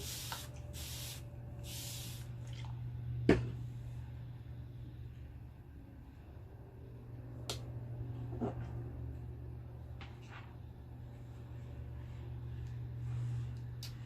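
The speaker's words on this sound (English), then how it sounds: "And my little spray starch solution." A few quick spritzes of spray starch solution from a spray bottle sound close by over a steady low electrical hum from a small travel iron, with small clicks and taps in between.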